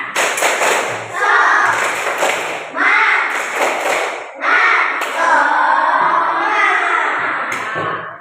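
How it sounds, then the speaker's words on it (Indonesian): A school class does a rhythmic spirit clap, with groups of loud, fast claps and thumps mixed with children chanting together, repeating in several bursts close to the listener. "yuk kita tepuk semangat lagi. Tepuk semangat."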